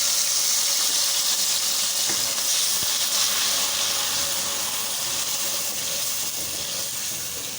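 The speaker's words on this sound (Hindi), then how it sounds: "अब हम इसमें लहसुन अदरक का हम पानी डाल लेते हैं इसमें।" Garlic-ginger water poured into a hot cooking pan in a home kitchen, giving a steady loud sizzle and hissing spatter that holds through the whole stretch with no talk.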